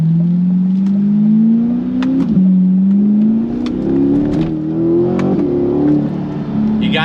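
A Corvette C8 Stingray Z51 with an AWE custom exhaust revs steadily upward in pitch, loud and close, with a throaty exhaust note and brief dips between pulls.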